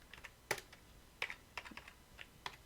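Scattered keystrokes on a computer keyboard during a JavaScript coding session, a handful of quiet, irregular clicks with short gaps between them, close and alone without talk.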